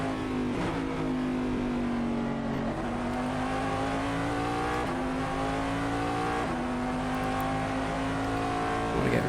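Corvette DP race car engine from the in-car view in Assetto Corsa at Silverstone GP, droning loudly and continuously as it rises through the revs, with brief dips at gear changes.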